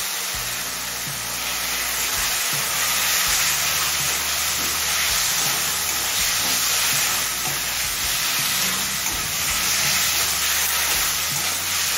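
Chicken pieces frying in a pan of spice masala that has already been sautéed, making a loud, steady, close-up sizzle and hiss that holds without a break throughout.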